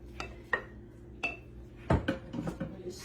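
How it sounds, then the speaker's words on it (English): Shredded food is stirred in a cooker pot, with a spoon knocking and scraping against the pot in scattered metallic clinks, one sharper clank in the middle and a quick cluster toward the end. "We just stir that in."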